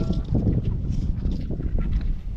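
Wind blows across an open campsite on a sunny day, a loud, gusting rush of buffeting noise with no clear talk over it.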